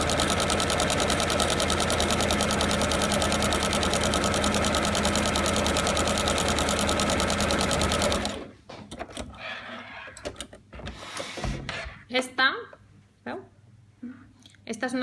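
A sewing machine runs at steady speed for about eight seconds stitching an elastic stitch on knit fabric, its fast even whirring and clatter close and loud, then stops, leaving handling noises and soft rustles.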